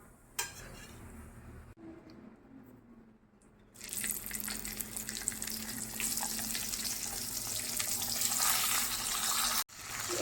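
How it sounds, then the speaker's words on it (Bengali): Dried hilsa fish frying in turmeric-spiced oil in a pan, a loud, steady sizzle that starts after a few quiet seconds and holds to the end, with faint clinks early on. "আর শুটকি মাছগুলো অল্প ভেজে নিব, তার জন্য ওই তেলের মধ্যে একটু হলুদ দিয়ে দিচ্ছি।"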